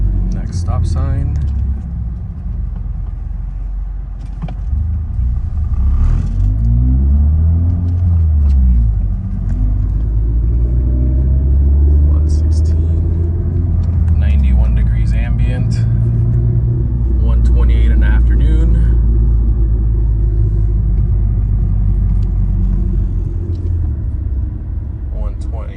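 A 4th-generation Mazda fitted with a Corksport short ram intake and cold air box drives at residential speeds from a cold start, its engine a steady low rumble with gentle rises in revs, while a driver talks over it throughout.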